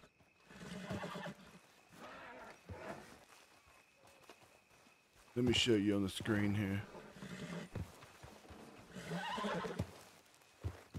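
A horse neighs in a zombie video game, a loud drawn-out whinny rising midway between stretches of someone talking, with hoof sounds and game noise around it and another shorter burst later on.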